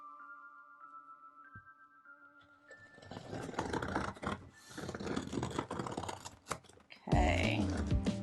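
Scissors cutting and scraping through tape on the box of a Kalour 520 colored pencil set, after a quiet start, with a series of close, crisp rustling and snipping bursts and one sharper crackle near the end.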